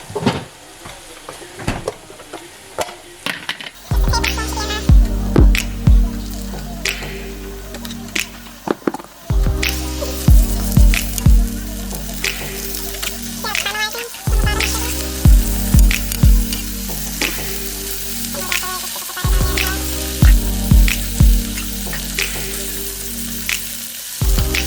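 Oxtail pieces frying with butter in a pan, loud crackling sizzle that starts abruptly after a quiet moment and continues with repeated bursts of spitting, stirring and clinking, no voices present.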